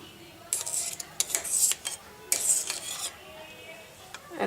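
A spoon clinks and scrapes against a vessel while curd is stirred into hot milk, several quick metallic taps and swirls, close and fairly quiet.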